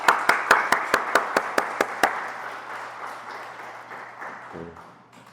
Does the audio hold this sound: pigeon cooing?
no